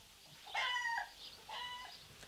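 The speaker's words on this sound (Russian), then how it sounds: "Вот куры." Two short, high, harmonic calls from chickens in a village yard, the first louder and longer, the second following about a second later, heard clearly over quiet background.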